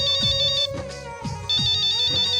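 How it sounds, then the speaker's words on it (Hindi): A mobile phone ringtone plays loudly and alone, a repeating melodic tune with a bright electronic tone that cycles in regular phrases over a steady beat, in a Hindi family drama scene. "सनी ताई का फोन आ रहा है।"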